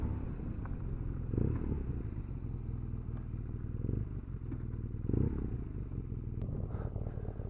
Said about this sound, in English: So first off is the exhaust note, which is quite nice.